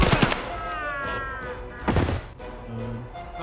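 Gunfire in Escape From Tarkov: a quick cluster of sharp shots at the start and a heavier burst near two seconds, with a low rumble and background hum between them.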